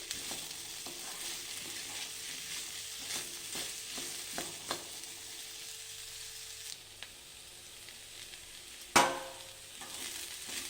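Okra fry with salt stirred in a pan, a soft continuous sizzle under intermittent spatula scrapes, quieting midway before one sharp metallic clank.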